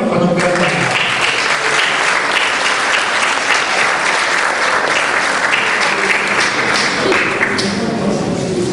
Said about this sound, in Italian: Accogliamolo con un grande applauso.